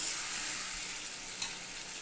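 Potatoes and eggplant frying in a pan with cooked-down spices, a steady close hiss and sizzle with faint crackles, heard alone without talk.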